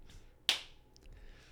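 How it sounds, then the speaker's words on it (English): A single small hand clap at a podcast recording: one crisp, close snap-like smack rising out of near quiet, followed by faint rustle. "Okay, you want to give us a little clap?"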